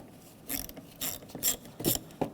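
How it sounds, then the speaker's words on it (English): A ratchet with a 10mm socket loosens the negative battery terminal nut on a 2007-2013 Mini Cooper, giving several short bursts of rapid clicking with brief pauses between them, fairly close and quiet, with no talk. "on the negative terminal for the battery, use a 10mm socket"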